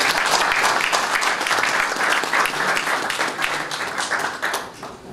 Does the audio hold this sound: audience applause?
yes